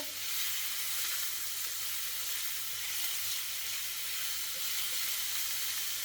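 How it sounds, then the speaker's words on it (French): Onion and garlic sizzle in a hot pan, giving a steady, close frying hiss that holds the same level throughout, with no talking. "Donc, je fais revenir l'oignon, l'ail."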